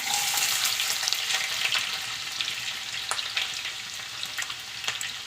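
Chopped garlic and onion hit hot sunflower oil in a pan for restaurant-style chicken fried rice, making a loud, steady close sizzle with light stirring scrapes and no voices.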